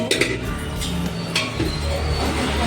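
A cooking pot of biryani is set down onto a griddle over a wood-fired clay stove and covered with its lid, giving metallic clinks and scrapes over a steady background rumble.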